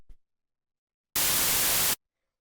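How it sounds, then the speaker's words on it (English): Synthesizer white noise with all effects switched off, a single steady broadband hiss held for under a second after a brief click, otherwise silent, for a deep minimal house track. "here is just the white noise"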